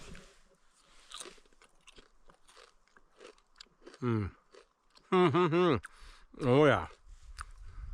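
Crunchy bites of a cheese and bacon snack, three loud close crunches in the second half after quieter rustling, with a short spoken remark.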